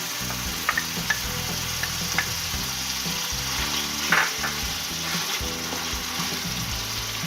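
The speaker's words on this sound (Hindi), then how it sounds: "कीमा अच्छी तरह भून गया है। अब मैं इसमें दही शामिल कर रही हूँ।" Yogurt added to fried minced meat keema in a hot pan, making a continuous close sizzle. Occasional stirring clicks and scrapes sit over a steady tonal background.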